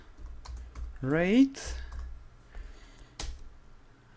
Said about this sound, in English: I can search inside this document by typing here